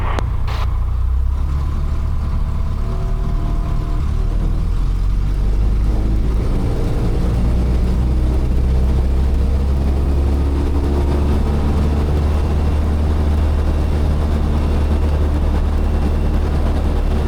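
A small airplane's piston engine runs up before departure from Casa Grande, a loud, steady low drone with rising propeller roar, heard close from inside the cabin with no talk.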